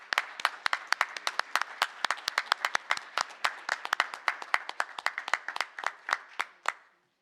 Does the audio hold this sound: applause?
yes